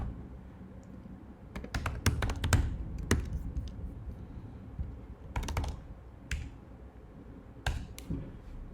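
Keys clatter on a computer keyboard in irregular bursts of quick taps with short pauses between, close and moderately quiet over a low room hum.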